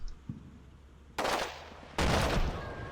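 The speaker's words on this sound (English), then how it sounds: "Just a random explosion." Explosions in the Combat Mission Shock Force 2 war game, bigger than a 30mm grenade: two loud, sudden broadband blasts about a second apart, each followed by a rumbling decay.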